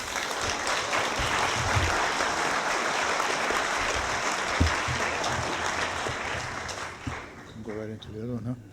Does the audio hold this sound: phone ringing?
no